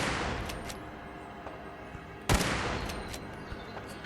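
Gunfire in the video game Fallout London: one sharp loud shot cracks out near the middle of a steady roaring, crackling battle bed, with a few fainter pops around it.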